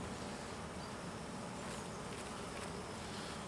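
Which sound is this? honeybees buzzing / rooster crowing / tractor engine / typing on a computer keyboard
honeybees buzzing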